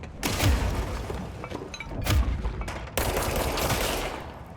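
Gunfire in the video game Control comes as loud, close bursts of shots. Three heavy volleys with booming impacts follow one another over a few seconds.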